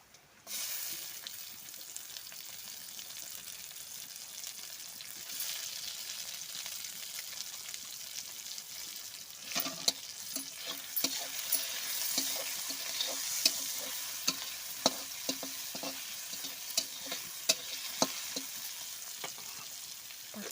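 Onions sautéing in a pan hiss in a continuous, fairly quiet sizzle, with scattered scraping and tapping as a spatula stirs them.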